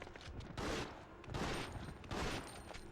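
Shotgun fire in Resident Evil Outbreak comes as three heavy, evenly spaced blasts, each with a broad crack and a short decay. The blasts are fairly faint, with no talk over them.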